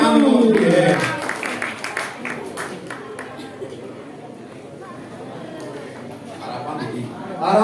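An audience claps at a Balinese language month event in a village, a scattered burst of applause that rises early and fades, mixed with crowd chatter and a voice talking over it.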